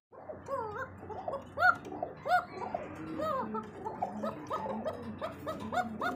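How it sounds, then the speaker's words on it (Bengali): Several pigeons of a calling breed coo in overlapping, rolling phrases, close and fairly soft, with repeated gurgling calls rising and falling over a low background hum. "এটা ডাকের কবুতর, ঠিক আছে?"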